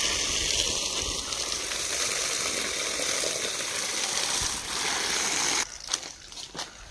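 Water rushes steadily from a pipe onto garden plants at night, a constant close wash that cuts off abruptly near the end, leaving a few faint clicks.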